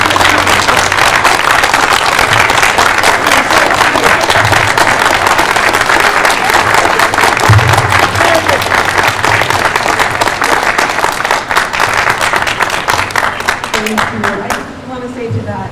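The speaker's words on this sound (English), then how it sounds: "let's give these people a round of applause" Applause from an audience at a Q&A after a Twelfth Night performance by Marin Shakespeare, steady dense clapping that runs the full length and fades near the end.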